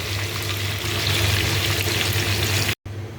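Cabbage sizzling in a pan with white onion, red capsicum and garlic, a loud steady frying hiss that runs unbroken for nearly three seconds, then cuts off abruptly, leaving faint quiet sizzle.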